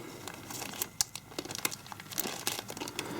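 Close, busy crinkling and tearing of plastic packaging around Travis Scott merch tees and hoodie, sharp rustles and rips coming in quick irregular bursts, with no voices.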